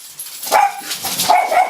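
A dog named Leo barks a few times, close by and fairly loud, in short sharp bursts with brief gaps between them.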